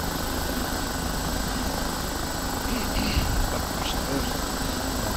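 An OH-58D Kiowa helicopter in the DCS flight simulator gives a constant engine and rotor drone with a steady whine on top, and faint voice sounds now and then.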